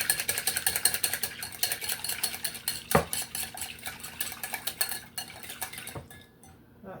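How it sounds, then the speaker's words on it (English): Cucumber, tomato and onion salad being tossed with vinaigrette in a bowl, a busy run of close scraping and clinking of utensils against the dish, steady and rhythmic, fading out near the end with no talking. "So guys, you just mix it up."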